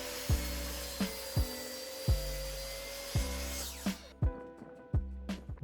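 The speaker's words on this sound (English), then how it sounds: "we can get on with cutting up the timber" Treated timber cut for a shed base with a power saw, a steady motor whine broken by regular thumps and bites roughly once a second, close and fairly loud, then quieter cuts.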